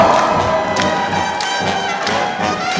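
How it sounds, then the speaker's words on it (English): A loud crowd at a grant winners' celebration claps along in a steady beat, with strong, evenly spaced hits roughly every half second amid cheering and general crowd noise. "Let's clap along."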